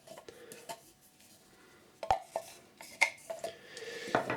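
A cooled margarine and milk mixture scraped out of a pot for Viennese waffles with apples; a run of close, sharp metallic scrapes and clinks, quiet at first and then sharper and more frequent, with no talking.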